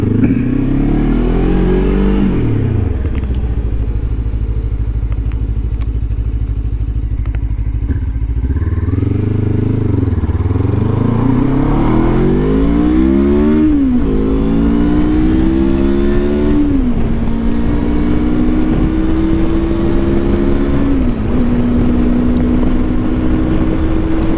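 A Lifan KPT 400 motorcycle with a swapped front sprocket accelerates toward highway speed, its engine climbing loudly through several gears with rising revs, brief dips at each shift and heavy wind rush, close and continuous.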